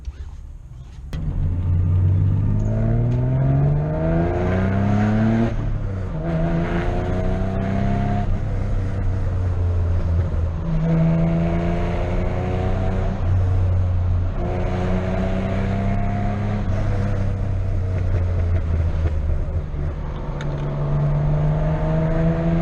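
A Subaru Impreza GC8 2.5RS driven hard, its flat-four engine heard from inside, repeatedly revving up through the gears with shifts in between, loud and steady over road rumble.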